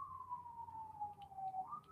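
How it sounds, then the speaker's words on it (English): An ambulance siren passes along a residential street, its steady wailing tone sliding slowly downward, moderately near and continuous with no talk. "there's an ambulance coming down my street"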